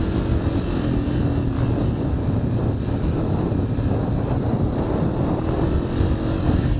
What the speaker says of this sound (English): You can hear the wind is just howling.